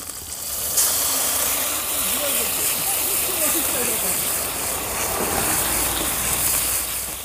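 Mustard and poppy seed paste hitting hot oil with fried ginger and cumin, a steady loud sizzle and hiss that holds throughout with a brief burst near the start.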